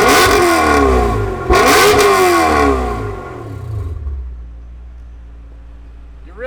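Heard from the rear, a Dinan-tuned BMW E39 M5's naturally aspirated V8 gives two sharp, loud revs that sweep up and fall away, then settles into a quieter low idle with no talking.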